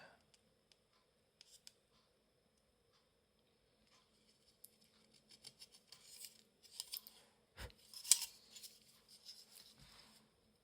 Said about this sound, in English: I'm starting by using this craft knife, which I got from Hobbycraft